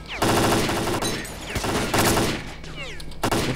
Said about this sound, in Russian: Вот опять пули в меня летят.